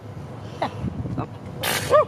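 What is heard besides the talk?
sneeze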